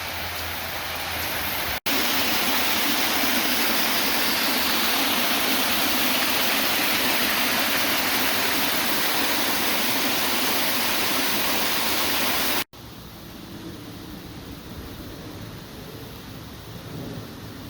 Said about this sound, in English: This may actually be one of the most impressive waterfalls I've seen this year.